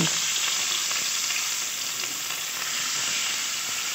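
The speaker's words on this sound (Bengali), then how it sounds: "একে একে মাছগুলো ভেজে নেব।" Pieces of rohu fish fry in a kadai with a loud, continuous hissing sizzle that stays even throughout, and no one talks.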